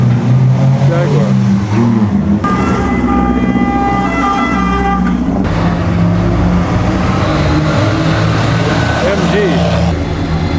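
A vintage Jaguar racing past in the 2015 Mille Miglia road race, a loud, close engine roar with whining harmonic tones that swell and shift, joined by other passing traffic and voices.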